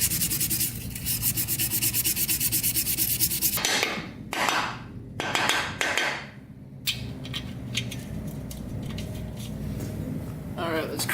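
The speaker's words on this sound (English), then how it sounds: "Basically like wet sanding these." Parts of a Honda CR250 dirt bike that sat outside for years being wet sanded, with steady rhythmic rubbing strokes, close and fairly quiet, broken by short pauses and a few knocks.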